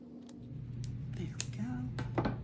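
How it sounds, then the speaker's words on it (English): Scissors trim lace off the edges of a layered paper tag, giving a few short, close snips and clicks over a steady low background hum. "I'm going to go ahead and trim off the lace on these edges here."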